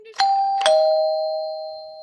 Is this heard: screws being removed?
no